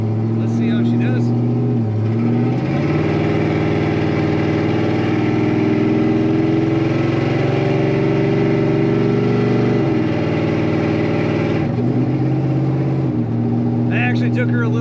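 A 1978 Chevrolet C10 Stepside with a column-shift automatic drives along, its engine droning loud and steady with gear-change dips in pitch and rising revs, and a voice is heard faintly under it.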